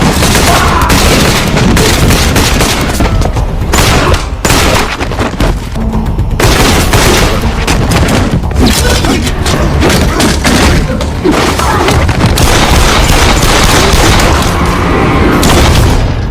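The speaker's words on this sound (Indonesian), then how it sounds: "Sang presiden yang juga mendengar baku tembak tersebut" Gunfire in an action film battle scene, loud and dense, with rapid bursts of shots, heavy booms and crashes piling up almost without pause.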